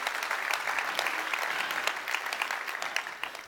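An audience at a tech conference talk applauds, a full, continuous patter of many hands clapping at moderate distance that thins slightly near the end.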